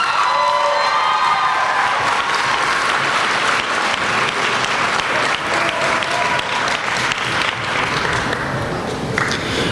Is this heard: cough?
no